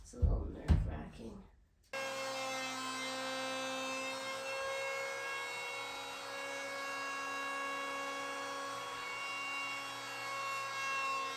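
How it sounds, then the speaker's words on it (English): A power planer smooths wooden boards for sauna benches with a steady, loud buzzing whir that runs unbroken after a few quick handling clatters and thumps at the start. "First time using a planer, so it's a little nerve-wracking."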